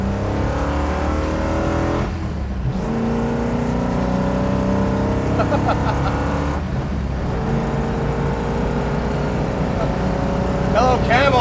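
A 1968 Bullitt muscle car, its engine droning loud and steady with rising harmonic tones as it accelerates on a pull, heard from inside the car on a road in Dubai.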